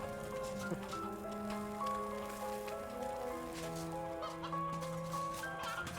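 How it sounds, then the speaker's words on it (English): Chickens cluck in the video game MediEvil, with several overlapping clucks and squawks over a musical, rainy-sounding backdrop with no talking. "you have to feed the dumb chickens"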